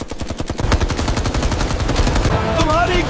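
Rapid bursts of automatic gunfire fill an action drama scene, dense cracking shots repeating fast and loud, with a short whistling ricochet-like tone near the end.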